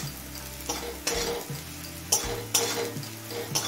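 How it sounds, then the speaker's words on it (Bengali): Chopped onion from one large bulb fries in a pan until lightly reddened, giving a continuous sizzle broken by several sharp scraping stirs of a utensil against the pan, close and clear. "পেঁয়াজটা হালকা লাল হয়ে আসা পর্যন্ত ভেজে নেব।"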